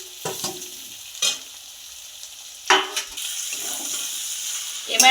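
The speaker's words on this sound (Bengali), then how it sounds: "এবার আমি আরো ভালো করে কষে নেব সবগুলো সবজি একসাথে।" Chicken and fried vegetables sizzle in a pan, with bursts of stirring and scraping at irregular moments over a steady frying hiss.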